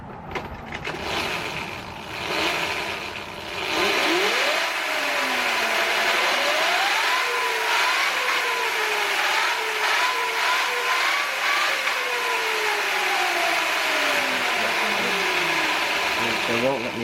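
An electric Sur Ron Light Bee dirt bike motor, suspected of a Hall sensor fault, whines as it is throttled, its pitch rising and falling in sweeping waves after a few seconds of lower noise.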